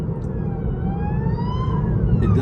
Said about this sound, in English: There is 2 ambulances coming our way.